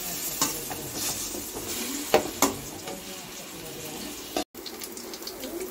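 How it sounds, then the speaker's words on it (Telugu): Bitter gourd pieces simmer in tamarind pulp with no salt or chilli added, giving a steady wet bubbling sizzle with a few sharp stirring clinks and one brief dropout near the end. "చింతపండు గుజ్జుతో మనకి కాకరకాయ ముక్కలు అయితే ఉడుకుతున్నాయి."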